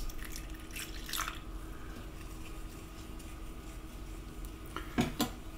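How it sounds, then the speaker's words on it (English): Flour and water are stirred together in a bowl for pitta bread dough, with soft scraping and clinks from a utensil against the bowl. A couple of sharper knocks come near the end over a steady low background. "So let's mix the flour together first. Let's put a bit of water in."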